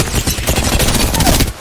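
Rapid automatic gunfire in the Apex Legends video game, a dense, loud, continuous burst of shots lasting well over a second before cutting off.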